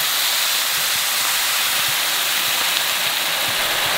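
A whole 16-ounce bottle of water pours into a pot of garlic shrimp and rice, making a steady, bright, close hissing splash that runs unbroken from start to finish with no talking.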